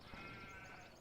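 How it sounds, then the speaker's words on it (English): A sheep in a farming simulator game gives a single drawn-out bleat, faint and close, with no talking over it. "Here's our sheep."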